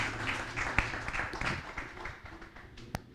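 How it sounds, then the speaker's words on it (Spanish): A small audience claps at a public policy event on gender perspective, with light scattered applause and a few sharper claps fading out. "Démosle un fuerte aplauso a la maestra García"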